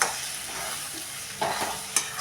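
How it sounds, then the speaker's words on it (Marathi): Beaten eggs stirred in a frying pan with onions for egg bhurji, soft continuous sizzle with a few brief scraping spatula strokes close by, no talk. "आता हे एक मिनिटभरच फक्त पहिल्यांदा हलवून घेऊया"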